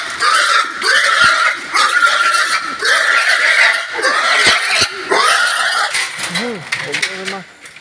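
A boar pig grunts and squeals loudly up close, a dense run of harsh calls with short pauses, while people talk nearby.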